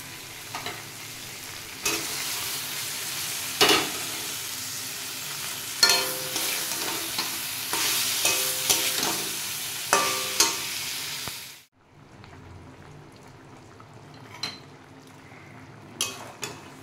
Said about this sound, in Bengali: ভাজা মাছগুলো ঢেলে দেবো আর কি।